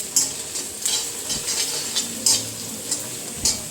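Carrot, capsicum, onion and green chilli fry in a pan with a steady hiss, broken by regular scraping stirs of a utensil at about one-second intervals, close and clear with no talking.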